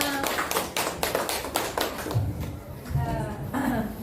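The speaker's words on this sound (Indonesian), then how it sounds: "Tepuk tangan untuk kita semua." Scattered hand clapping from a school group rings out near and fairly loud for about two seconds, then fades as a voice starts speaking over the last claps.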